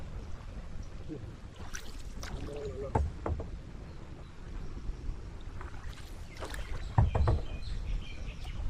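A rowboat is rowed on a lake beside a resort, giving a quiet ambient wash with a few soft paddle splashes. People talk intermittently and birds chirp faintly in the background.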